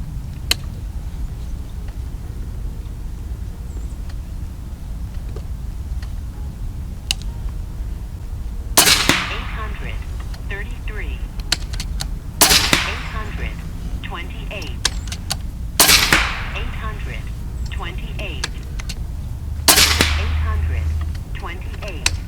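Airgun shots from a JSAR Hawk firing Nielsen Specialty Ammo 23 grain hollow point pellets: four sharp, loud cracks spaced a few seconds apart, each with a short ringing tail, over steady low background noise.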